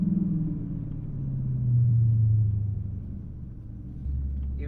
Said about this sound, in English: That was a strong launch, even with a little bit of bouncing.